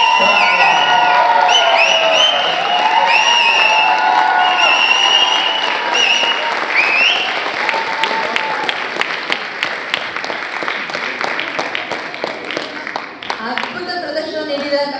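Audience applause and cheering after a raaga fusion keyboard performance at a live concert, a dense, loud wash of clapping with whoops and shouts that thins into scattered claps toward the end.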